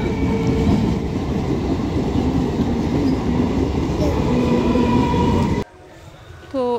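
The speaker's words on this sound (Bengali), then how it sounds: "যাচ্ছে ট্রেন" A train rolls past near a small station market, loud and close with rhythmic wheel clatter that cuts off abruptly near the end, leaving faint background noise.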